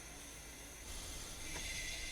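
A steady hiss of air brakes releasing on a train in Train Sim World 5, rising slightly partway through and holding on as a continuous, fairly faint rush.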